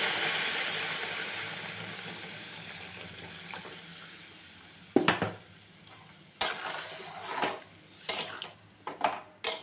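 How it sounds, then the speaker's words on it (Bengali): Hot water is poured into sautéed vegetables in a cooking pan, a fading hiss and sizzle followed by several sharp clatters and scrapes of a utensil against the pan. "আমি এবার গরম জল ঢেলে দেব।"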